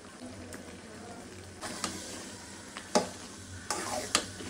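Olive pickle with date palm jaggery is stirred in a pan, a soft sizzle running underneath while the spoon scrapes in a few sharp strokes toward the end.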